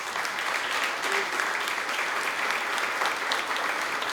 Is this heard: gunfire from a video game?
no